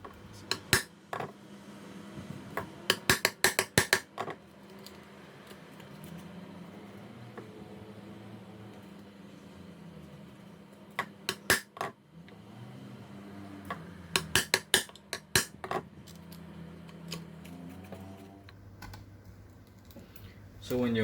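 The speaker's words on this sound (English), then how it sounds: "So as you do your 2-3 taps, you'll angle it and your chisel will go this way." A chisel is tapped with a mallet to cut a dado in wood for a tissue box, with clusters of sharp, close knocks in quick bursts of two or three, separated by quiet stretches.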